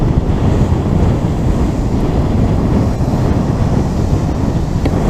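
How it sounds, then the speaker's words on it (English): Waves roll in on a Suffolk beach at high tide under strong wind, a loud continuous rush of surf and gusts buffeting the microphone, with no one speaking. "I can't see it going too well, not with these winds. And look at these waves coming in"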